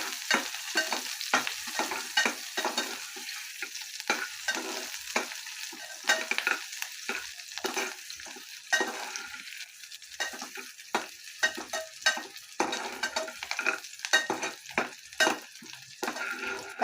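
Onion being stirred and sautéed with a few curry leaves in a pan over low gas, a steady close sizzle broken by repeated scraping strokes of a spatula, with no talking.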